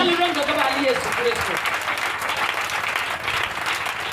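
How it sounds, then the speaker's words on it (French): A church congregation applauds during a Friday sermon, sustained clapping filling the room as a preacher's voice speaks over the opening moments. "Acclame très puissamment Jésus-Christ."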